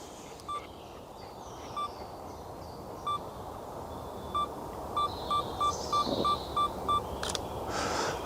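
Camera's 10-second self-timer beeping in a bluebell woodland, short clear beeps that start slowly about a second apart, then speed up to a rapid run near the end, with soft outdoor birdsong behind.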